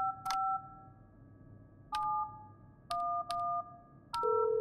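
In the video game Don't Fret, a payphone number is dialed as a series of six clear touch-tone beeps in an uneven rhythm. The tones are short and distinct, with quiet gaps between them and no talking.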